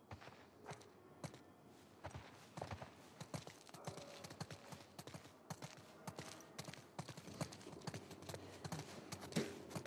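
Steady clip-clop of horse hooves on hard ground in the video game The Last of Us Part II, several horses walking in an uneven overlapping rhythm, fairly close with a little background noise.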